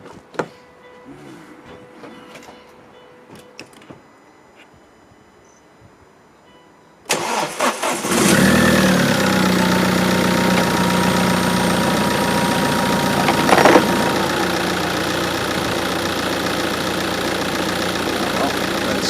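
Quiet ambient noise, then a Tata Xenon engine with a blocked diesel particulate filter cranks and catches, settling into a steady, close idle that runs on with a brief louder rev midway.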